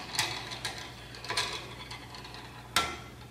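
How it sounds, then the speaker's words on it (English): Plastic Z nut mounts being threaded by hand onto the lead screws of a Hypercube 300 3D printer, giving a few light, scattered clicks and ratcheting ticks close up, with a sharper snap near the end and no talk. "take our Z nut mounts and thread them onto our lead screws"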